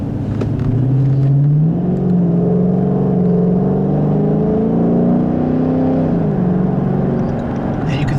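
A 2010 Dodge Challenger R/T with a 5.7 Hemi V8 accelerates hard, its deep engine note climbing steadily through the revs before a brief shift-like dip, heard from inside the cabin.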